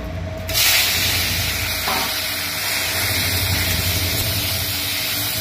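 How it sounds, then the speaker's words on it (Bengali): Fish pieces seasoned with salt and turmeric fry in hot oil, giving a steady, close sizzle and hiss that holds for several seconds after a soft start, with no talk over it. "মাছ কাটা ভেজে ফেলি"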